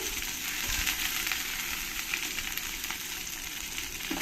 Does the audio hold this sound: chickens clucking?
no